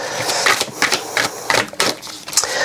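Rapid papery riffling bursts of a deck of goddess oracle cards being shuffled, close and fairly loud, repeating in quick irregular flurries.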